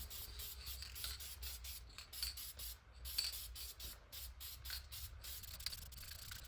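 Light misting spray coat going onto a Cadillac Northstar head gasket, a soft continuous hiss in short repeated passes with brief gaps, close and fairly quiet.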